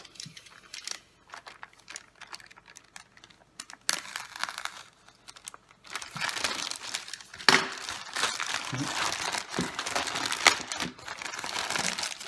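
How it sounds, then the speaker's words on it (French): The Xiaomi YI 4K camera package is unboxed in close crinkling and rustling of plastic and cardboard, sparse and quiet at first, then denser and louder as handling continues. "Alors on déballe"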